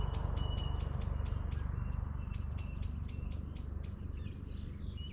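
Repeated short, high chirps in quick bursts from birds outdoors, over a steady low background hum.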